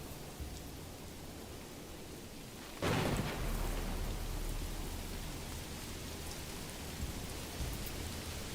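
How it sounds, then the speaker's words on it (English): Steady rain with a rumble of thunder in the medieval strategy game Manor Lords, a constant hiss that swells and thickens about three seconds in, with low thunder underneath and no voices. "Why is it raining again?"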